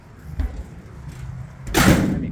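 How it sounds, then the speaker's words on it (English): Compartment doors on a 2012 Chevrolet Silverado K3500 HD utility service truck are shut, giving a dull thump and then a heavier, louder slam close by. "Let me close these doors real quick."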